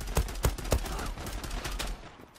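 A TEC-9 fires in a video game, three sharp, evenly spaced shots followed by fainter, rapid bursts that fade toward the end.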